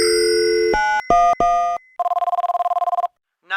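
A telephone handset picked up in a kitchen during a house fire emergency gives a steady dial tone, then a few short tones and a rapid pulsing ring burst before the line goes quiet, loud and close with no talking.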